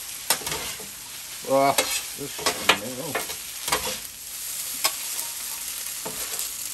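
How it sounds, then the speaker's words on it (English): Rice stir-fried on a Steelmade USA flat top grill with soy sauce and teriyaki, a steady sizzle broken by sharp scraping and tapping of spatulas against the steel, with brief speech over it. "Take our teriyaki, mix that baby in."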